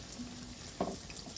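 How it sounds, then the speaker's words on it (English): Banana fritters frying in a pan of hot oil, a soft steady sizzle with a brief louder crackle near the middle, quiet and close with no talking. "Now we let them fry."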